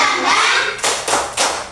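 Classroom of students clapping together in a rhythmic cheer, a smeared noisy wash followed by three sharp, loud, unison claps spaced evenly apart.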